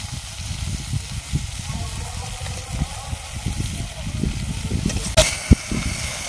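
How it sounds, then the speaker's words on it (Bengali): Tomatoes and onions frying together in a pan, a steady low sizzle with a few sharper pops and clatters near the end, under faint background sound. "টমেটো আর পেঁয়াজ একসঙ্গে ভালোভাবে ভেজে নেব।"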